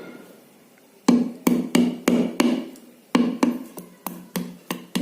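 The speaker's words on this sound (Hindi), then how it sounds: "इसमें हम छेद कर लेंगे स्क्रू ड्राइवर की सहायता से।" A screwdriver is struck repeatedly with a hammer to pierce the soft eye of a whole coconut, giving a close, loud series of sharp knocks in a steady rhythm, with a short pause midway.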